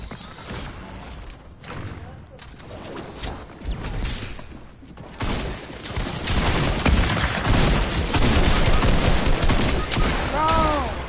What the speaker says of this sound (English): Hit him with the rocket launcher.